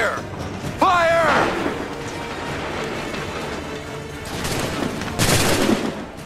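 Musket volley gunfire during the Battle at Lexington in Assassin's Creed 3: a loud crackling fusillade of overlapping shots, with shouted voices and battle noise around it and another burst near the end.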